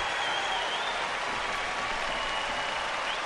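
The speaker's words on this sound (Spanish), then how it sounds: "No, aplaudimos, aplaude él y el público." Crowd applause at a US Open women's match in the tennis video game Top Spin 4: a steady, dense wash of clapping holds at even loudness throughout, with no talk over it.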